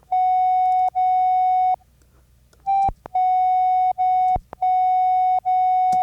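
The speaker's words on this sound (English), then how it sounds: "So we have a sine wave at +4." A steady synthesizer sine-wave tone sounds loud and pure in repeated sustained notes with short gaps and a few clicks between them, with no voices.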